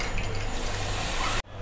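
Water drains in a steady, loud rush from blanched spinach being prepared for hara bhara kabab, then cuts off abruptly near the end.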